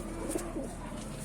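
Young pigeons in a loft give soft, low cooing calls, a couple of brief murmurs standing out over a steady close background hum.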